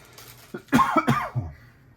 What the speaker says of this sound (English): As we continue to cough away.